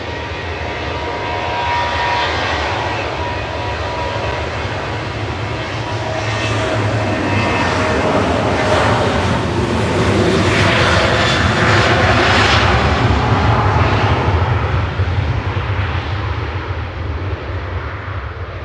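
A Jet2 airliner takes off from Manchester Airport bound for Rome, its engines building into a loud, sustained roar that swells and fades slightly across the run, with no talking.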